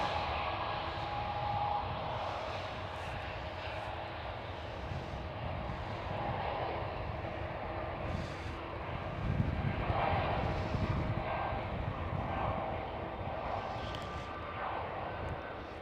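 Embraer E2 airliner passing at Schiphol, a moderate jet engine roar with a low rumble that swells around the middle, plus a faint steady whine.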